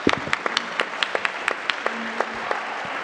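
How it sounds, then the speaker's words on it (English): A small audience at a university research event gives applause, heard as sparse, distinct individual claps in an uneven rhythm, close and moderately loud, with a faint tone beneath. "how about a round of applause?"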